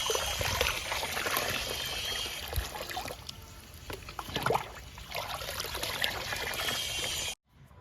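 Fermented homemade liquid poured over tomato plants in a garden, a steady close splashing and trickling pour running for several seconds before stopping abruptly.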